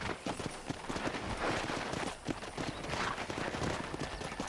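Horse hooves galloping in the Red Dead Redemption video game, a continuous rapid clip-clop drumming close and loud with no talk.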